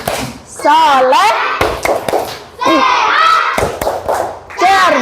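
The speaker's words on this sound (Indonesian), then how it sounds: "Coba kelas 2. Kelas 2. Tepuk semangat." Classroom of young children doing a rhythmic spirit clap, sharp unison hand claps and thumps mixed with loud chanted children's voices, the class calling out together between claps.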